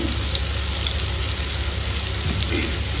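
Broad beans and tomato fry in a generous amount of oil, giving a continuous close crackling sizzle with a watery hiss and no talking.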